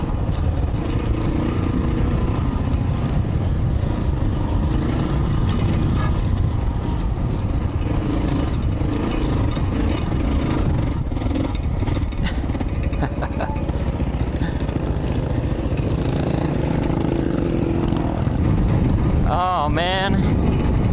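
A Kawasaki KLR 650 motorcycle rides through a gravelly wash. Its engine drones loud and steady for the whole stretch while gravel crunches and rattles under the tyres, with wind buffeting throughout.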